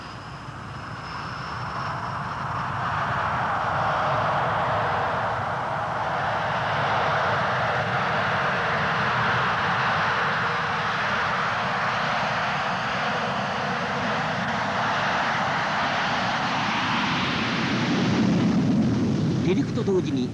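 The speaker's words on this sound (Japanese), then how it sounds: "4機編隊によるダイヤモンドテイクオフ。" Blue Impulse jet aircraft take off together in a four-ship diamond formation, a loud, sustained engine roar that swells and holds for the whole stretch, with a faint voice beneath.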